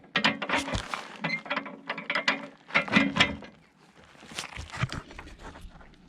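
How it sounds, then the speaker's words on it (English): A metal bar slides back through the mounting brackets of a Toro TimeCutter mower deck, giving a run of close ratcheting scrapes and metallic clicks in quick bursts, then a short pause and a second, softer burst. "Final step is to slide this bar back through."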